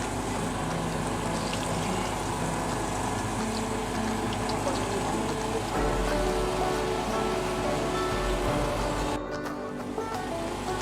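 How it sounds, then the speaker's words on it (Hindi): Potato cutlets frying in oil over medium heat, a steady dense crackle and hiss that runs close and loud throughout, briefly dipping near the end. "इसलिए दरमियानी सी आंच पे अच्छे तरीके से इनको फ्राई कर लें।"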